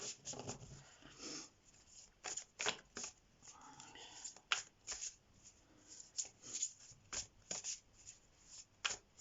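Tarot cards shuffled and flicked from a deck, a quick run of crisp riffling bursts and papery snaps, close and fairly quiet, with occasional soft speech between them.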